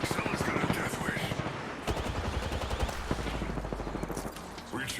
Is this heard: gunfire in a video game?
yes